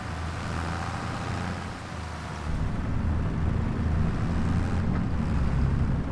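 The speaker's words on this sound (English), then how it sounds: "This is old Grandpa's old tractor." Grandpa's old tractor in Farming Simulator 25 chugging along on a wet day, a steady low diesel drone that grows slightly louder partway through, continuous with a wind-like hiss and no talking.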